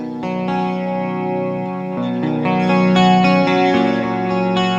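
An electric guitar chord rings out in a clean tone with a shimmering, chorus-like sheen, sustained and fairly loud, with no talking.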